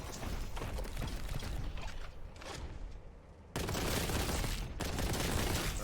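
Gunfire in the Warhammer 40,000: Boltgun video game comes as a dense rattling fusillade, briefly thinning out before loud, sustained shotgun blasts and mechanical clatter resume.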